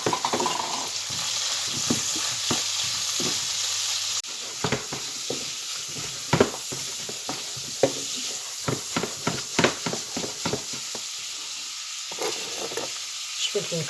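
Asparagus and king prawns frying in a pan with a continuous loud sizzle, broken by repeated scrapes and clicks of stirring, with no talk.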